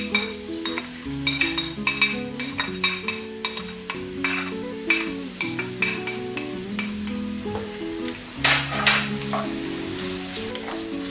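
Diced onion sizzles in warm oil in a pan while a utensil stirs, a steady fry broken by scraping strokes and clicks over a backdrop of music, with no talk.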